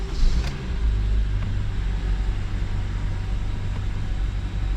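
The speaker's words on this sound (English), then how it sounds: "we're gonna go ahead and crank the car up" A Honda Civic engine cranks briefly and then fires up after a battery replacement, settling into a steady low idle rumble that continues close by with no voices present.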